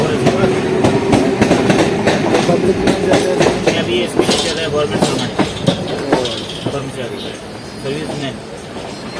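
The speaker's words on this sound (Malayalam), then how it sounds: "അപ്പോൾ ഇതാണ് മുംബൈ ലോക്കൽ ട്രെയിൻ" A Mumbai local commuter train rumbling along the tracks with rhythmic clattering and a loud, close roar, a voice speaking over it.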